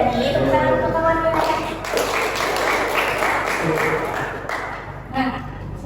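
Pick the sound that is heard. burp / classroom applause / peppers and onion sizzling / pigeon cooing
classroom applause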